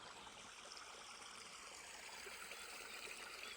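A small spring-fed stream trickles into the Dniester river, a faint, steady babble of flowing water at low volume with no voices.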